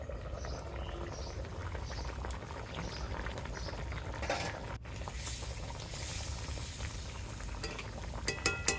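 A pan of katla fish curry simmering and sizzling, with a steady bubbling hiss throughout and a few brief clinks near the end.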